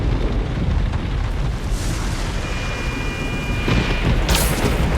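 Loud thunderstorm effect in a Spider-Man audiobook, with heavy rain and deep rolling thunder filling the whole stretch and a sharp crack near the end; no voices.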